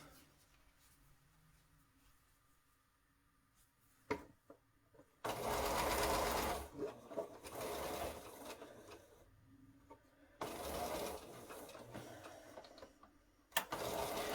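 A Bernina sewing machine stitches curves in a quilt, running in two sustained bursts of rapid, even mechanical whirring close by, with quiet pauses between.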